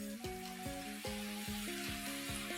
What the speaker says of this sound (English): So we'll fry it again now.